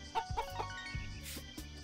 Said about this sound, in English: Pet the chickens.